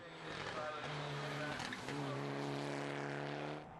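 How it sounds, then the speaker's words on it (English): A Mitsubishi Lancer rally car runs over a bumpy Europcar rallycross track at the UK Rally Challenge, its engine droning loudly and steadily with rising and shifting tones throughout, a commentator's voice running over it. "His Mitsubishi Lancer's really soaking up the bumps on the Europcar Rallycross track."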